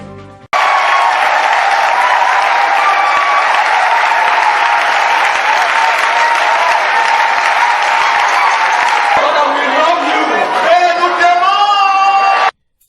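Church leaders of Douala welcoming a brother with loud, sustained applause and cheering from a large crowd, whoops and shouts rising over the din until it cuts off abruptly near the end.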